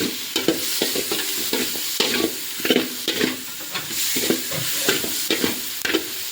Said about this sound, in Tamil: வெங்காயம் கொஞ்சம் வதங்கிட்டே இருக்குது